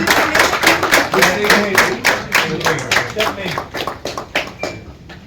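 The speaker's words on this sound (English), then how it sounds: "Let's give a big round of applause once again, everybody." Hands clap in rhythm at a new Apollo hospital inauguration, a regular series of sharp claps close by, with voices and music-like tones underneath.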